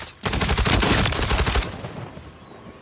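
Dense automatic gunfire from Warzone 3 hammers close and loud for about a second and a half of rapid overlapping shots, then fades into a softer rumble of distant fire.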